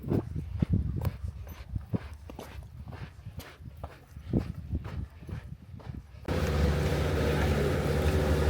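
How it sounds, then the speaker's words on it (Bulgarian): A small boat gets ready to leave from a trailhead in southern Chile: scattered close knocks and thumps come first, then an engine starts and holds a steady, fairly loud rumble to the end. "Това е лодката."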